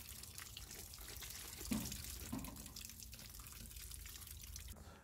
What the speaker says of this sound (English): Give the rock a good rinse under a tap to remove excess pumice.